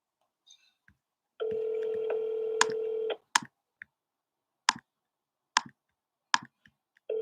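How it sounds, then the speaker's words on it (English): Phone dialing out on a cold call for wholesale real estate: a steady dial tone lasting under two seconds, then a string of sharp clicks and ticks at irregular intervals, close and clear over near silence. "I'm going to dial out again, and I'm going to start running comps while it's dialing out."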